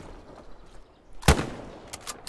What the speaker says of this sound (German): Ich glaube, da kam irgendwo der Schuss her.